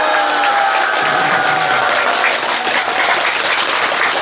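A large indoor audience claps vigorously at a gathering, a loud, continuous, even roar of hands with no pauses and little voice above it.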